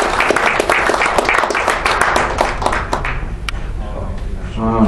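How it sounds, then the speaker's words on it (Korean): An audience at a foreign affairs and security forum claps loudly with sharp, distinct hand claps that thin out and fade over several seconds, with some chatter underneath. "박수 한번 축하해 주세요"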